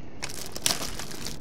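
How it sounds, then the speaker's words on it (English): Candy bar wrapper crinkling in a video game, a brief close rustle and crackle of plastic packaging with one sharper crinkle in the middle, fairly quiet and without talk. "Might as well throw down on a candy bar while I'm at it."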